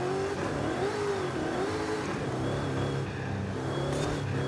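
A limousine's engine drones steadily while driving in Forza Horizon 5, a faint mid-pitched hum with slight pitch wobbles and no talk over it.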